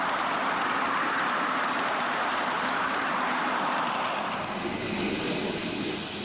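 Miniature railway train running up the line and round a turning loop, a steady broad rumble and rolling noise close by throughout, with no voices.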